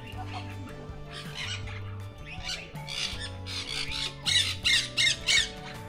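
A flock of parrot-like birds gives repeated harsh squawks, loud and close, rising into a rapid run of calls near the end over a steady low background hum.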